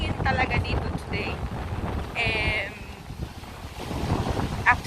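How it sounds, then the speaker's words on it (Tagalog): Strong wind blows at Maspalomas beach on Gran Canaria near the lighthouse and dunes, a rough, gusting roar against the microphone with surf beneath, while a person talks in short stretches over it. "nakikita nyo medyo masyadong mahangin talaga dito today"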